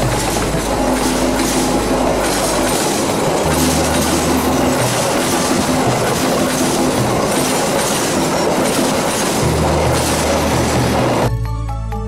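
A full train pulls into Surabaya just south of Wonokromo station, its cars clattering loudly and steadily past at close range over rhythmic rail joints, with a brief squeal near the end.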